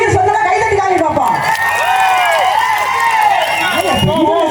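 Audience at a live Tamil comedy show cheering and clapping continuously, a loud dense crowd roar with whoops and shouts sustained throughout.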